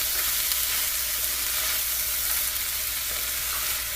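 Seasonings are stirred into corn chowder in a hot pot, giving a steady loud sizzle with scraping stir strokes, continuous and close, no voices.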